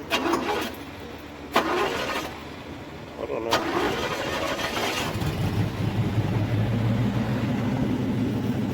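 A square-body Chevy engine cranks a couple of times and fires up, then rumbles steadily with a throaty note through an old exhaust; someone speaks briefly at the start.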